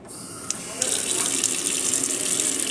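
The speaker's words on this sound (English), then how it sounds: "Turn the faucet on with paper towel." A faucet is turned on for handwashing, and water gushes steadily into a sink after a brief click. It stays loud and continuous to the end.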